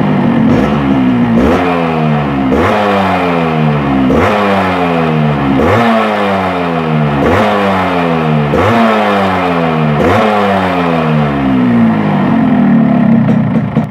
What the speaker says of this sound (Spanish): Vamos a probar cómo responde al acelerar.